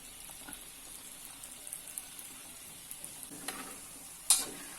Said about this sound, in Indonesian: Ini kita goreng sampai berwarna coklat ya.